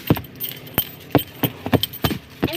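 A set of keys jangles and clinks in several sharp, close bursts spread across a few seconds, with short quiet gaps between the rattles and no talking.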